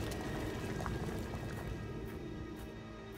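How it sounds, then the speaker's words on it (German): Something simmering in the game Black Mirror 3 makes a soft, steady bubbling and burbling, low and continuous with light popping, quiet and without talk. "wir lassen das jetzt einfach mal köcheln"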